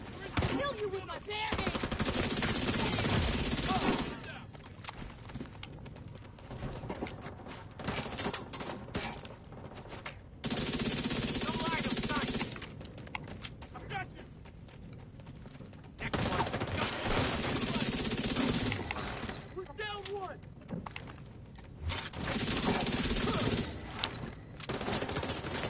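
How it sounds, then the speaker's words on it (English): Bursts of gunfire in the shooter game Backfire, several long stretches of rapid automatic fire separated by brief quieter gaps, loud and close, with voices talking in between. "Stop shooting me."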